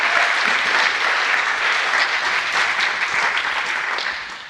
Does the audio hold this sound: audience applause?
yes